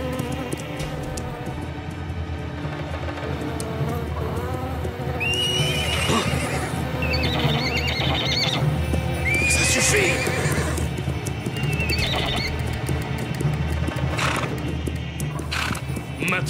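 Horses whinny loudly several times over a steady rumble of hooves and movement, with a few snorts in between.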